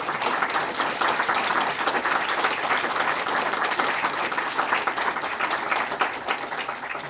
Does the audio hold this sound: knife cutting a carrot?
no